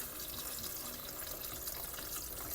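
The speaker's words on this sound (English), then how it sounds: "Now I'm adding in some water" About two cups of water pour steadily into a pot holding frying meatballs for an Anglo-Indian stew, a continuous splashing rush close by with no talk over it.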